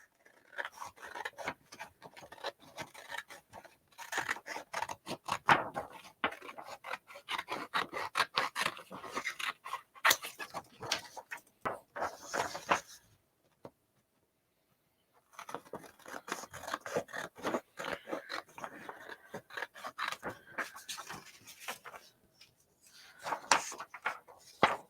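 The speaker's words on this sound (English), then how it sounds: "So we've got our folds. We'll cut this out." Scissors snip steadily through folded paper for a fan garland, a dense run of close crisp cuts that breaks off for a couple of seconds midway, then resumes.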